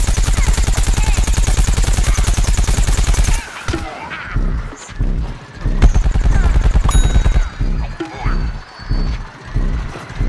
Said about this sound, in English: Wow, getting shot at by Toxic P.